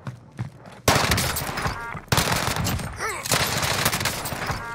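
Bursts of automatic gunfire in Warzone on Rebirth Island, loud and dense with repeated volleys, broken by a short pause before the firing resumes, with game effects mixed in.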